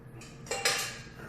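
A utensil clinks and scrapes against a frying pan while mint custard cooks, two or three quick metallic knocks at close range with no talking.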